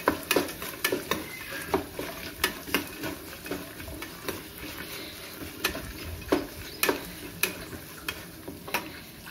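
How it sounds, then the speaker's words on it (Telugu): Peanuts and chana dal fry in a pan while a spoon stirs them, giving a steady sizzle punctuated by regular sharp clicks and scrapes, close and alone without talk. "పల్లీలు, శనగపప్పు, వీటన్నింటిని బాగా ఫ్రై చేసుకోవాలి"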